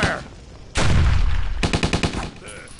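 Cover fire from guns in the Night of the Living Stubbs game: one heavy blast, then a quick, loud rattle of about eight sharp shots in a row.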